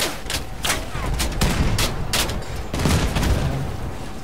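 Rapid bursts of plasma weapon fire in the Crossout vehicle combat game, a series of sharp repeated blasts in quick irregular succession over a dense rumbling battle background.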